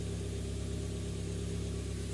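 A 2014 Ford Fiesta 1.4 engine running steadily during a major service with engine flush, a close, even idle hum with a regular low pulsing throb and no voices.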